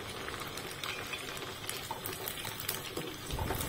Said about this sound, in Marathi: दोन्ही साईडने गुलाबी कलर येईपर्यंत छान तळून घ्यायचे